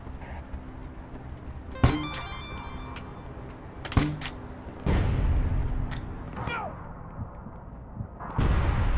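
Rocket launcher blasts in the APB Reloaded video game land as a few sharp, loud booms spaced seconds apart, each followed by a rumbling tail over a busy game background.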